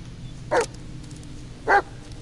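A dog in the horror game Blair Witch barks twice, short sharp woofs about a second apart, fairly close and clear over a faint rustling ambience.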